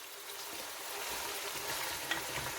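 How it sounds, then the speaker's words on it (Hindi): Large pieces of meat for haleem fry in a pan, a steady close hiss and crackle of sizzling with no talk. "इस मीट को हम तकरीबन 10 से 15 मिनट तक भूनेंगे।"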